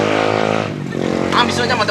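A motorcycle engine revs nearby with a buzzing, harmonic drone that dips briefly and then climbs again, while voices talk over it.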